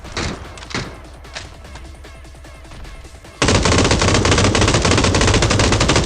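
Automatic gunfire in PUBG: a few scattered shots and rapid single-fire taps give way to a loud, sustained burst of full-auto fire up close that runs steadily to the end.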